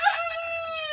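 A single rooster crows once, close and clear, a brief harmonic call with no other voices.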